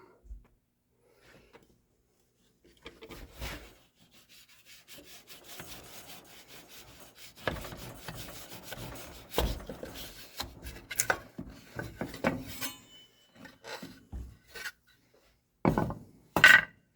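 A laminate is pried off a guitar headstock with a spatula, giving intermittent close scraping, rubbing and creaking wood sounds with sharp cracks and snaps, separated by brief quiet gaps.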